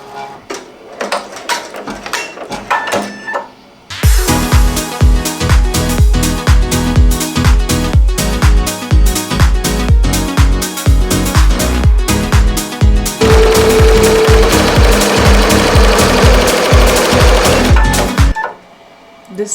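An embroidery machine stitches a satin border applique onto a Bella Canvas hoodie, starting with lighter clicks, then a loud, steady, rapid mechanical chatter of needle strokes for about fourteen seconds before stopping abruptly.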